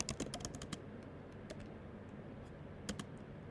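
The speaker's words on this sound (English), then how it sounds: "so I'm going to type" Keystrokes on a computer keyboard come in a quick burst of clicks at the start, then isolated taps follow over low background hum, close and fairly soft.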